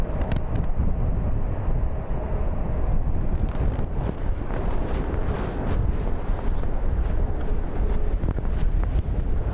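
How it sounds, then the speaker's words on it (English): Strong storm wind at Dublin Airport during Storm Bram roars steadily and loudly across the microphone, a dense, unbroken rumble with gusting buffets throughout. "as you can tell, the wind's kind of mental"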